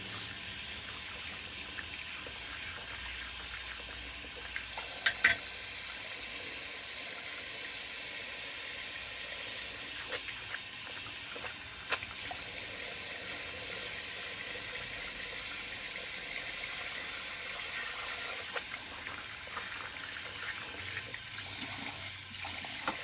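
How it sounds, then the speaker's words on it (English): A tap runs steadily at a sink while a Muhle R41 safety razor blade is rinsed under it, giving a continuous close splashing gush with a few brief clinks and taps. "I'll rinse the blade off and then rinse my face off."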